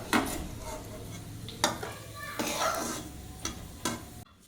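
Cashew korma frying in a pan while being stirred, with a steady sizzle under several sharp scrapes and clinks of a utensil against the pan, close and fairly loud, no talking.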